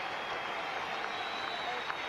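A crowd at a 2003 Pakistan versus Bangladesh one-day cricket match cheers and applauds faintly in the distance, a steady hiss of stadium noise with a commentator talking over it.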